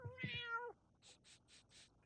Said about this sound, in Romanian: Așadar, Angelo, ai o pisică